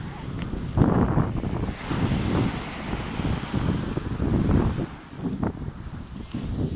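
Sea waves roll onto Angeiras Norte beach in Portugal on a summer day. Broad surges of surf rise and fall over several seconds, heavily buffeted by wind on the microphone, with no clear speech.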